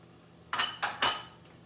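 Diced squash tipped into a pot of cooking risotto makes three quick clinking, scraping knocks spaced evenly over roughly half a second, close and moderately loud, followed by quiet.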